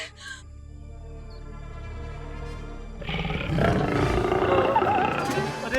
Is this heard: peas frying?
no